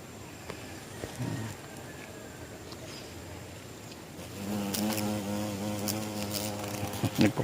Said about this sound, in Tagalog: Nagpa-pollination yung bubuyog.